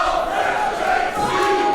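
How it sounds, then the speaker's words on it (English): A pro wrestling crowd roars at the start of a Pro Wrestling World Cup Canada bout, a dense, loud, sustained cheer filling the arena with a steady high yell. "listen to this crowd"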